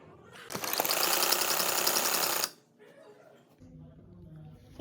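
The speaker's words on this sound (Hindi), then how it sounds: "यहाँ सिलाई लगा लेंगे" A sewing machine runs a burst of stitching along the folded hem of a frock, a loud, even whirring for about two seconds that stops abruptly, followed by quieter low handling sounds.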